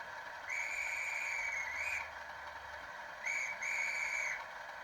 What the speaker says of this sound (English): Function 12, guard's whistle.